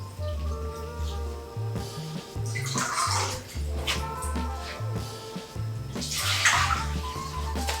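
Water pours and splashes steadily as soaked pho noodles are drained, a continuous gushing stream with gurgling surges that swell louder toward the end.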